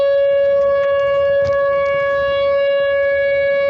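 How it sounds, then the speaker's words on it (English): National emergency sirens sounding across a town, a loud steady wailing tone held without a break, with faint background noise under it. "They're the national emergency sirens or something like that."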